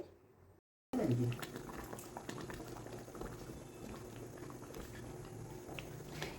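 Fish curry gravy for katla malaikari boiling in a pan: after a brief gap, a continuous close bubbling and popping of simmering liquid at a steady level.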